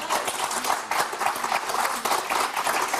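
A studio audience on the French game show Motus applauds a contestant who has just won 5000 euros, with continuous dense clapping and no voices for three seconds.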